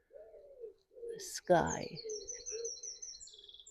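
Birds call outdoors on an early summer morning: low, repeated dove-like coos and thin high chirps, close by, with a person briefly speaking over them.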